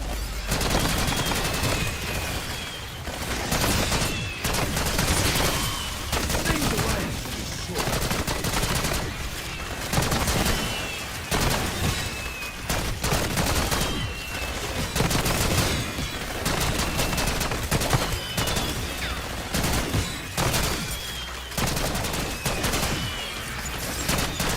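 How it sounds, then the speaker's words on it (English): Sentry turret in Black Ops 6 zombies at Liberty Falls firing nonstop, a loud dense stream of rapid automatic gunfire with bursts and booms from ongoing combat, steady throughout. "Deploying sentry turret."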